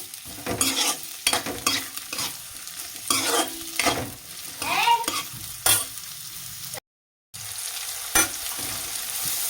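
Onions and green chillies frying in a pan are stirred with repeated scraping strokes over a steady close sizzle, with a brief silent gap near the end.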